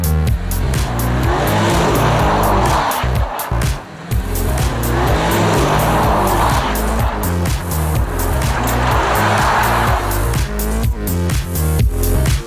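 A BMW 6 Series Coupe with xDrive is driven hard with stability control switched off. The engine roars loud and close through revving gear changes, one brief dip, and faint tire squeal throughout.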